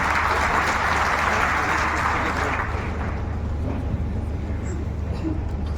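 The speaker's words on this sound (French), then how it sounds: "je vous invite à rejoindre le pupitre sous vos applaudissements" A hall audience applauds as a minister walks to the podium at a formal agreement-signing ceremony on agriculture and weather forecasting, a dense, steady wash of clapping that holds evenly, with a low hum beneath and voices mixed in.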